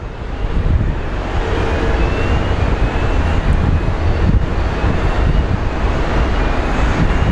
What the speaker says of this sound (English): Apparently we're going to get a bunch of American planes departing.